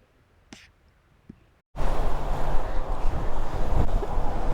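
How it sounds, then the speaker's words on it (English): Strong wind roars into the microphone while riding a motorcycle near the Mexico-USA border, starting abruptly after a few quiet seconds and then buffeting loudly and continuously. "The wind is crazy."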